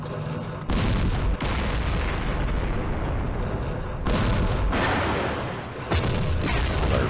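Booming artillery fire and explosions in a Middle East wargame battle crash in heavy, loud bursts, rolling into long sustained rumbles, with several sharp new blasts stacking on top of one another.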